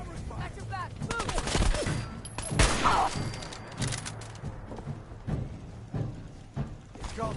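Bursts of gunfire from the video game Fallout 4, with rapid fusillades and single shots scattered over several seconds, mixed with thuds and brief voices over a low background.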